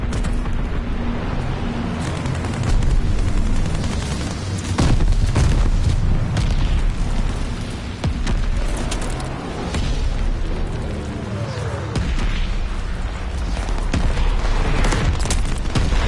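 Mortar rounds detonate in a Call of Duty Vanguard match, heavy booming blasts rolling one after another with rumbling low-end impacts and crackling debris, loud and continuous across the scene.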